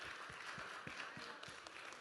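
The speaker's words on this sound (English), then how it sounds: "Come on, let's just clap for her." Audience clapping for a woman at a magazine cover unveiling event, a dense, fairly faint wash of applause with a few distinct claps standing out.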